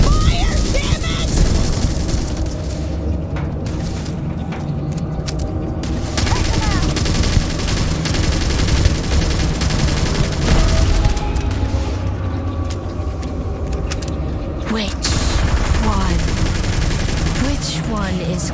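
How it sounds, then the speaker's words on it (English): Gunfire erupts in the space game Starfield, rapid bursts of shots and heavy booms repeating across a loud firefight, with voices shouting between volleys. "Open fire! Fire!"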